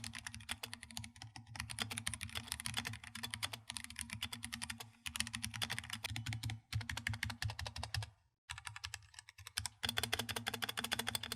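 Rapid, steady typing on a mechanical keyboard, close and crisp, with dense clacking keystrokes broken by a few brief pauses.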